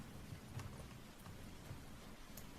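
Steady rain pours down without pause, a dense even hiss with faint low rumbles beneath, no voices.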